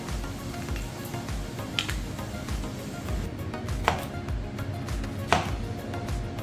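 Knife chopping okra on a cutting board in a German restaurant kitchen, a steady run of quick, close taps with a few sharper louder chops standing out.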